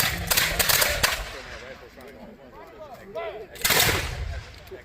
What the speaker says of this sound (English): all firing at once. Same bang, bang, bang, bang.